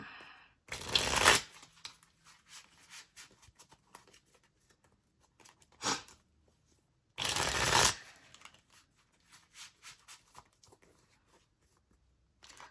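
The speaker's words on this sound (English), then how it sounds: "I'm going to go ahead and pull from the Z108 deck. I'm going to pull 3 cards." A Z108 deck of cards is shuffled in three distinct riffling bursts, close and crisp, with soft card handling and quiet pauses in between.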